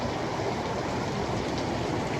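Steady rain falling outdoors, a dense continuous hiss with fine patter that stays even throughout, with no voices over it.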